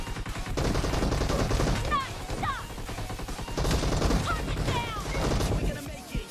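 Shotgun blasts and gunfire crack in PUBG Mobile, with loud, dense bursts and rapid shots in close succession over game noise as someone talks throughout.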